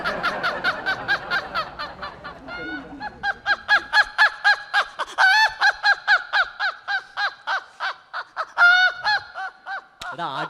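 A male comedy-show performer imitates a rooster crowing while being tickled, his voice producing a long run of rhythmic, honking crow-like calls, loud and close, with laughter-like breaks between bursts.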